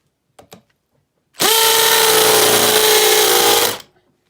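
A Makita XPH07 brushless hammer drill drives a spade bit into wood in one steady, loud burst of about two seconds, a bright, even motor whine starting abruptly and cutting off cleanly, with faint clicks just before.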